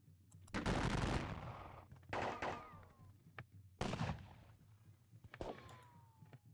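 Musket volleys from a line of infantry in a Napoleonic-era battle game, several loud ragged bursts of fire with echoing tails and quieter gaps between, no talk.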